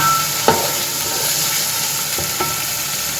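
Chicken handi frying in a pan, hissing and sizzling steadily throughout while being stirred, with a couple of soft clinks of a spoon against the pan.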